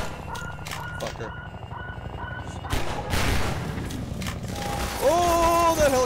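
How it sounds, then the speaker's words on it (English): Helicopter gunfire in the Half-Life 2 video game, heard as bursts of rapid shots over a busy game soundscape, with a rising whine near the end and someone talking over much of it. "Oh, that helicopter is aiming at me!"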